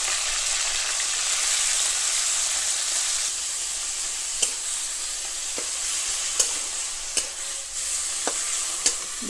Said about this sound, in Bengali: চিকেনটা ভালো ভাজা হয়ে যাবে